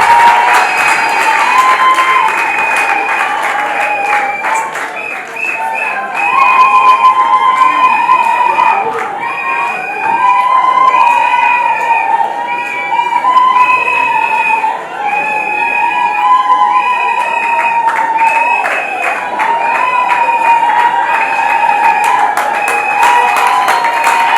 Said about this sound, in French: Les applaudissements et les acclamations au milieu des sifflets.